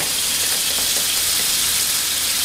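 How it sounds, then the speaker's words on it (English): White wine sizzles loudly in a pan of scallops being cooked in a white wine butter sauce, giving a steady, dense hiss that stays even from start to finish with no talking over it. "Listen to that wonderful sizzle, that wine."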